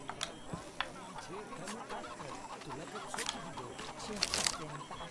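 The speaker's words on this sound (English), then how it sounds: "I just picked up that chicken and took it." Chicken in Shadow of the Tomb Raider clucking softly and repeatedly after being picked up, faint in a busy village ambience with a brief brighter squawk near the end.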